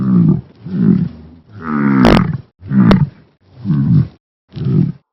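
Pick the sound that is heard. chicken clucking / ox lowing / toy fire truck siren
ox lowing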